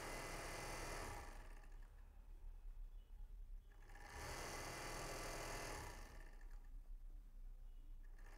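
An overlock sewing machine fitted with a new pressure foot runs a trial stitch in two sustained bursts of whirring motor, each a few seconds long, separated by a quieter pause.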